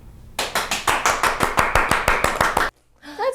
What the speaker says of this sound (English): I feel like I have to clap.